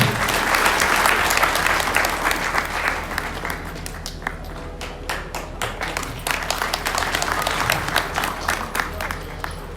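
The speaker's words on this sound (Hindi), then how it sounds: "जोरदार तालियों से इनका स्वागत करें" Loud, dense applause from a large audience welcomes a guest at a Shiv Maha Puran religious gathering. It stays sustained and crowded throughout, with faint voices mixed into the clapping.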